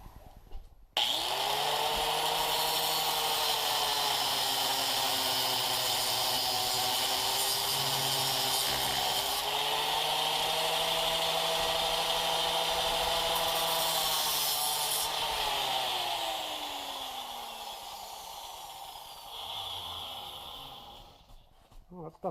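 A power tool cuts off the old handle of a 10 lb sledgehammer head, a loud sustained whine that shifts pitch as it bites, then winds down to quiet near the end.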